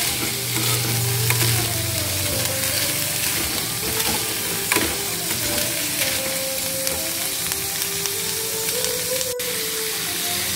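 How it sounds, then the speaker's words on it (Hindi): Spices with coriander powder cook in hot oil, giving a constant close sizzle and bubbling with occasional light stirring scrapes, and no talk over it. "इसको तेल में अच्छी तरह पकने के लिए छोड़ देंगे"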